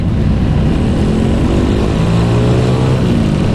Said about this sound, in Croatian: I stvarno ima svih vrsta motora. Od najnovijih do najstarijih mogućih.